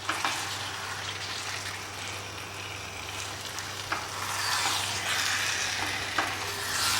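Chicken stirred through an onion-tomato masala with ghee in a non-stick pan, a steady close sizzle running throughout with a few soft scraping spoon strokes and no talking.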